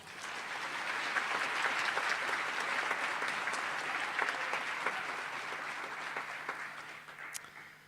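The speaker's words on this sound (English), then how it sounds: "Let's give them another hand of applause." A graduation ceremony audience at Stellenbosch University gives warm, sustained applause for a brass ensemble and the national anthem vocalist, a broad wash of clapping that swells and then gradually tapers off.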